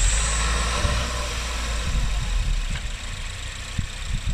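A Ford Focus ST MK3 with a newly fitted crossover pipe idles loudly and close up right after its first start, a steady low rumble with slight uneven knocks and no talking.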